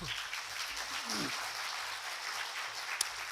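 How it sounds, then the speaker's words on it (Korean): A church congregation at a Sunday service applauds the choir after their praise song, a steady moderate clapping with low murmuring and a brief sharp knock near the end. "한번 박수 좀 쳐세요"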